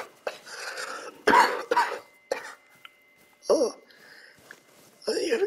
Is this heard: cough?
yes